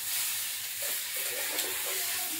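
Vegetables being sautéed in a pan with turmeric, a continuous soft hiss of frying with faint stirring scrapes underneath, fairly quiet and even throughout.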